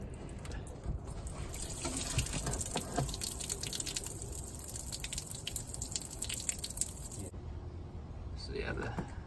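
Water running and dripping as it drains out of the engine of a Mustang GT project car, a steady faint trickle and splatter outdoors, with a person talking over it.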